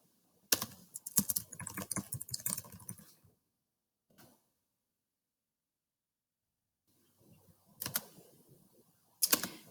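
Bursts of typing on a computer keyboard, rapid clicking keystrokes in two clusters separated by a few seconds of silence, close and fairly loud.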